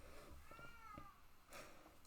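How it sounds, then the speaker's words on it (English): A cat outdoors meows loudly, one drawn-out wavering yowl followed by a shorter cry, heard faintly and at a distance indoors with no talking over it. "there is a cat outside meowing very loudly"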